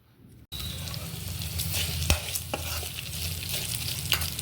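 Dry red chillies and garlic stir-fry in a pan for ponnaganti leaves fry, a steady close sizzle with a spatula scraping and clicking at irregular moments.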